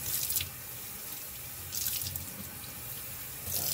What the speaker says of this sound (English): And then rinse it like this, and then rinse both sides of the banana leaves.